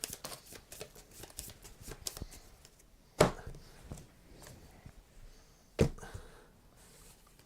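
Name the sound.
shuffling a deck of game cards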